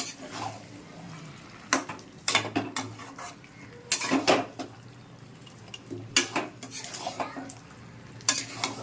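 Muri ghonto with goat meat and meat masala stirred in a pot, a ladle scraping and clanking against the metal in irregular bursts over a soft background sizzle.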